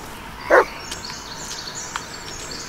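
A dog barks in the Blair Witch game as it roams a forest: two short, sharp barks about two seconds apart over a quiet outdoor ambience with faint chirps, and no voices.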